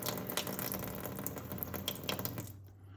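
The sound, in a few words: Insinkerator faucet running cold water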